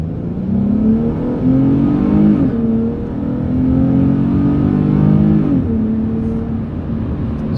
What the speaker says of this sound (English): let's go for a 0 to 60 test. ESP's off, sport mode on,